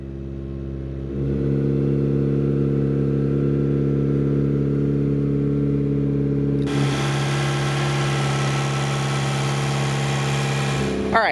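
A turbocharged Mazda Miata engine with a Torsen limited-slip differential idles steadily at a high, even pitch on its first cold start of the year, a strong low hum with harmonic drone, gaining a brighter, louder rasp partway through. No talking.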